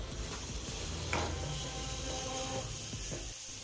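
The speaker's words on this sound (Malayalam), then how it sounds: "സവോള നന്നായി വഴറ്റി കൊടുക്കുക." Chopped onion sautés in hot coconut oil in a pan for Kerala-style steamed egg momos, giving a steady low sizzle with occasional stirring scrapes, fairly quiet and close, with no talking.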